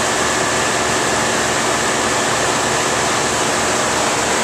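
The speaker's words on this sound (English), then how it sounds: "I think I just heard a fan or another unloader kick in." A Carrier 30GT series 45-ton air-cooled chiller runs under test, its fans and compressors making a steady, loud, broadband roar with a low hum, continuous and unchanging throughout, with no voices.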